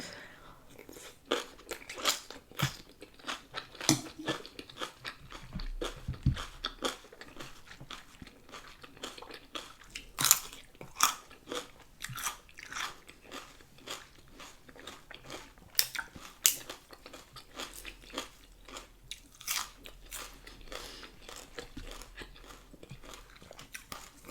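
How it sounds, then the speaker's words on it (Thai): Someone eats spicy pickled shellfish papaya salad with fresh stink beans, producing faint crunchy bites and chewing at close range in a quiet room, with occasional soft voice sounds. "บ่ได้กินตำหอยดองโดนนะจ๊ะ"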